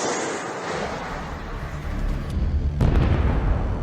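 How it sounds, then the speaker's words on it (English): A Javelin missile striking a Russian infantry fighting vehicle, heard as a roaring rumble that dies down and then a heavy, loud blast near the end, followed by a sustained low boom. "Ukrainian forces fire a Javelin."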